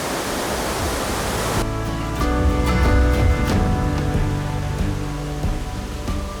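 Mill Creek pours over Pearsony Falls in the Oregon Cascades near Prospect, a steady loud broadband rush of falling water, continuous and close throughout.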